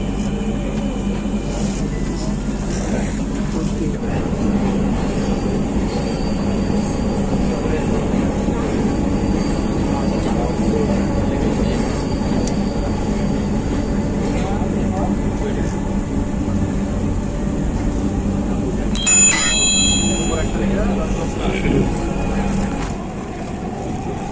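An elevated metro train in Dhaka, Bangladesh, runs with a steady loud rumble and hum throughout, heard from inside the carriage, with a brief high squeal near the end.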